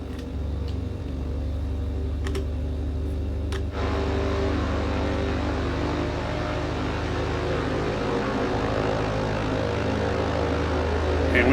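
BN-2 Islander propeller engines droning steadily while taxiing in Microsoft Flight Simulator, a loud continuous low hum with a slight rise in pitch partway through and a couple of faint clicks.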